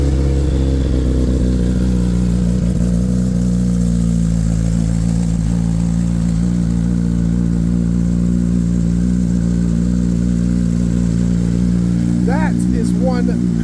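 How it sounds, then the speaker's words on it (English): A Suzuki Hayabusa motorcycle with a 1600cc stroker engine and a full titanium megaphone exhaust idles after a cold start, a loud, steady, rumbling drone close by that runs throughout, with a short rising rev near the end. "How about a cold start for this beautiful beast?"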